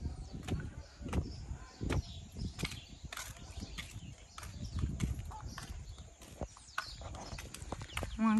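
A horse's hooves clip-clop in a steady walking rhythm on a ride, near and clear, with faint voices and birds in the open-air background.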